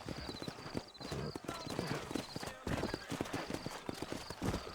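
Horse hooves clip-clop in a steady walking rhythm in the video game Red Dead Redemption, close and clear, over a busy background of movement and ambience.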